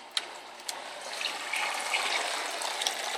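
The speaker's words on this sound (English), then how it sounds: "Siphon breaks up in the hose." Water rushes and gurgles through a hose as an aquarium's DIY PVC overflow siphon breaks during a simulated power outage, feeding a 10 gallon sump refugium. A steady, close splashing flow with a few sharp pops, and no talking.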